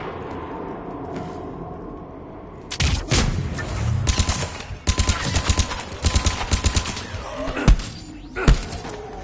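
Combat in the video game Mass Effect 3: after a quiet, tense stretch, heavy gunfire erupts in dense volleys with thuds and impacts, continuing in bursts and ending with a couple of isolated loud blasts.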